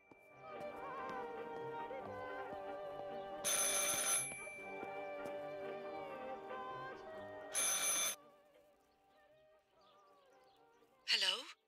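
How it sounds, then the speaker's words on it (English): An old-style telephone bell rings in a city-set adventure video game, sounding in three separate bursts against a steady musical background, with a closing high chime. "I should pick up the phone but remain silent."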